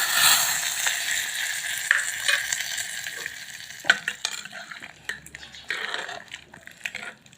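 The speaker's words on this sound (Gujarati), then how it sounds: "વઘાર નાખવાનો છે." Hot Gujarati tempering with red chillies is poured into tuvar dal made with tamarind and jaggery, giving a loud, crackling sizzle that fades and spits irregularly, with scattered clinks from a stirring spoon and no talk.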